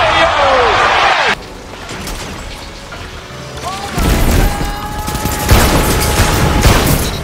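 Rapid gunfire from a shooter video game, a steady stream of shots layered with booms and impacts, loud and busy throughout while a player talks over it.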